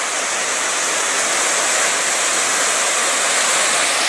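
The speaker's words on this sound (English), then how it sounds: "Here comes the creek." A forest creek runs through a culvert beside an old rail line, a loud, steady, unbroken rush of water that holds constant throughout with no voices.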